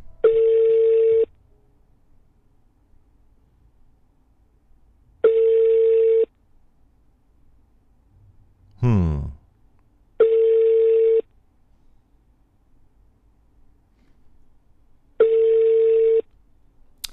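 A phone call rings out unanswered, with four evenly spaced long ringback tones about five seconds apart and a brief swooping noise between them, clear and loud against near silence.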